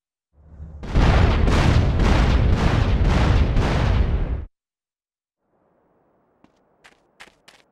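Machine pistol fired in GTA San Andreas, a loud, dense burst of rapid shots lasting a few seconds with a pulsing rhythm, then silence and a few faint scattered pops.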